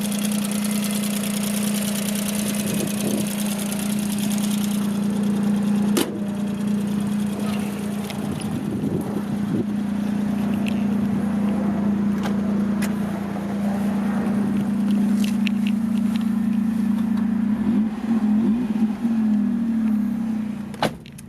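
A 1993 Suzuki Alto Works RS-R 4WD turbo, a small-displacement car with lowering springs, idles with a steady low hum and the air conditioning running. It sounds close and continuous, with faint clicks and rattles over the drone.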